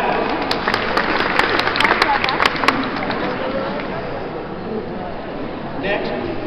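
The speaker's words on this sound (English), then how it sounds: "Round of applause for that." Applause at a medieval fashion show, a dense crowd clapping with a few sharp close claps early on, then fading into softer murmuring as a voice begins talking.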